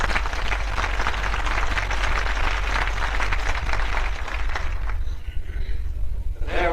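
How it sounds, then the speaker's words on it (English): Attendees at a 1986 potentate reception give a sustained round of applause, a dense, even wash of clapping filling the room for several seconds before it tapers off. "I think we ought to give them a round of applause anyway"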